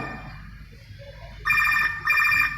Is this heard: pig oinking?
no